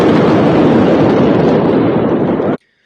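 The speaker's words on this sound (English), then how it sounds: "you can hear the warheads going off first, because there was a series of explosions." Ammunition warheads explode in a chain during the Beirut port blast, heard as a dense, loud, continuous roaring rumble with crackling texture that ends in a sudden cutoff.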